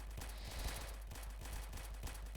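Rapid, continuous minigun fire from upgraded defense turrets in a tower defense video game, a dense steady stream of shots running the whole stretch without talk.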